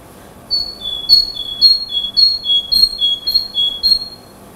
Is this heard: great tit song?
yes